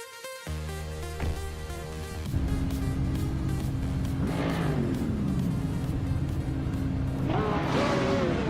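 Race cars launching at the start of a video game race at Okayama GP in the GTS class, engines droning loudly, then rising together in a continuous roar of revving and accelerating as the field gets away.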